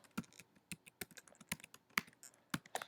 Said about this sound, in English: It's just instead of slope, I'm going to type intercept.